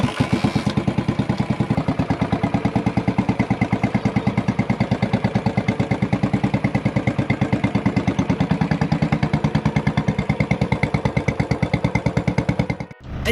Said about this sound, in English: I'm here with the Harley Davidson of my dad and I'm here in the expressway